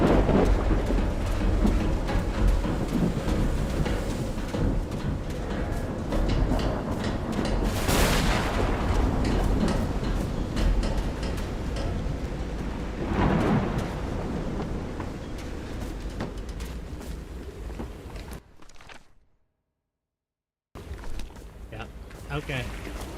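Rain pours steadily in a horror video game while rolling thunder cracks and rumbles several times, loud and close, before the sound cuts out briefly and then resumes.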